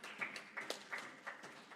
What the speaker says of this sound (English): another round of applause for Ms. Theopista Nakungu